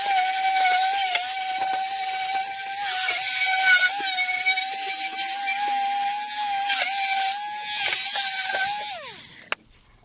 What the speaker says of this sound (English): Now I'm going to give it a final sanding so that way it will be perfectly rustic